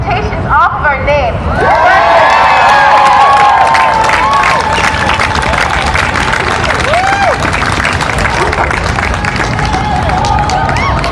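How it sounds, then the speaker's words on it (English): A rally crowd for justice and change in Rhode Island cheers and claps loudly and continuously, with shouts and whoops rising over a dense, sustained roar of applause. "Crowd is cheering"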